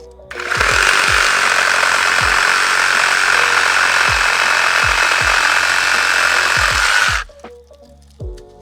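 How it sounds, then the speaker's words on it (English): A VEVOR reciprocating saw cuts through a branch of hard buckthorn wood about two inches thick, roaring loud and close for about seven seconds with sharp knocks, then stopping abruptly, followed by a few light clatters. "This right here is buckthorn, pain in the ass and really hard wood."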